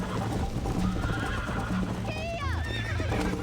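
Horse in the Red Dead Redemption video game whinnies loudly over steady galloping hoofbeats, with game music and voices underneath.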